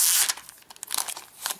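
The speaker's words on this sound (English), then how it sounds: "still wrapped in its plastic envelope. We're just going to peel this back." Plastic envelope wrapping a Logitech Ultrathin keyboard is peeled back, a close series of soft crinkles and brief tearing rustles in quick irregular bursts.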